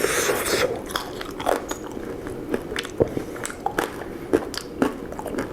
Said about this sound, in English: I'm gonna try the skin first because I want to hear the crunch.